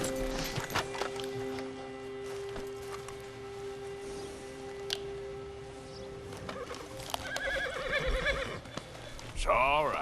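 A horse in the video game Red Dead Redemption 2 whinnies loudly near the end, with a wavering, quivering neigh. Clip-clop hoofbeats and steady in-game ambience run underneath throughout.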